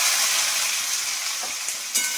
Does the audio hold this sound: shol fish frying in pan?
yes